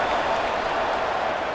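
Steady, dense roar of a stadium crowd cheering in the College Football 26 video game during a kickoff after a touchdown drive, continuous and even in loudness throughout.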